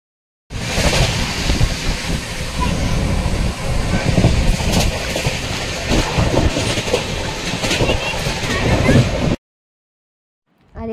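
Inside a moving passenger train bound for Delhi, a steady rumble and rhythmic clickety-clack of wheels on rails fill the carriage for about nine seconds, then cut to silence.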